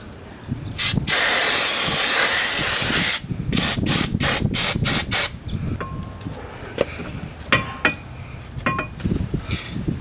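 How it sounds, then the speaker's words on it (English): Brake cleaner sprays onto the front brake rotor and caliper bracket of a 1998 Audi A6 Quattro. One long, loud hissing burst comes first, followed by a rapid series of short spritzes and some light metallic clicks. "clean your brake rotor with some brake clean, and also this bracket, where your brake pads are going to sit"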